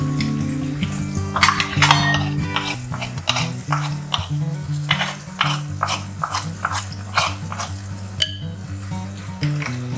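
Clay pot and utensils clattering in a kitchen while vegetarian asam pedas cooks, with repeated sharp knocks and scrapes over a low steady hum, loud and close.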